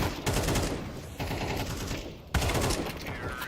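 An AK rifle fires in sustained automatic bursts during a professional European Pro League shooter match, dense and loud, with a short break before the fire resumes.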